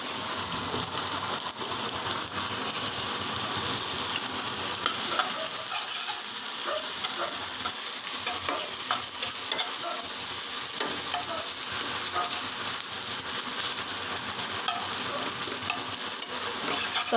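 Onions frying in a pan for a cabbage and egg curry give off a loud, dense, unbroken sizzle with faint crackles throughout.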